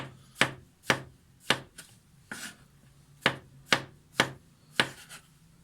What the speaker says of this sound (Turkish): Mantarlarımı da doğruyorum ama çok ince doğramıyorum